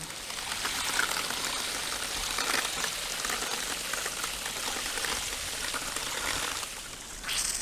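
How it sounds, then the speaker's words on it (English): Water leaks from a drip irrigation system's main filter regulator check valve assembly, a steady close hiss and trickle of spraying water that continues evenly throughout with no voices. "There's a few leaks here at the main filter regulator check valve assembly here"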